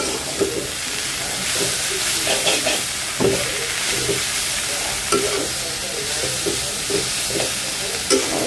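Coriander leaves are stirred and fried in a pan, a loud continuous sizzle broken by repeated scraping strokes of the spatula at an uneven rhythm, close up with no talking.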